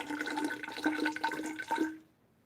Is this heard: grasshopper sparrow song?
no